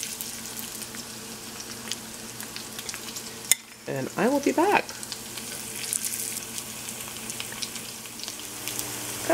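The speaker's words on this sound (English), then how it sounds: "I'm going to start the frying up, guys, as you see." Steady hiss and crackle of coated tofu pieces frying in hot oil runs throughout, with a brief clatter and a short spoken phrase midway.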